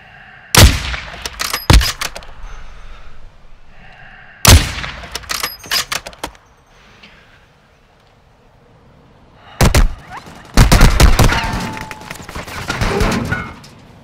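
Bursts of gunfire aimed at the player in Call of Duty: Modern Warfare II, sharp loud volleys in several separate clusters with quieter gaps between them, the last stretch a longer sustained barrage.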